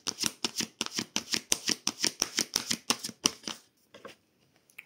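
Tarot cards being drawn and laid down, a rapid, regular series of about fifteen crisp slaps and flicks close by, trailing off into a few faint rustles.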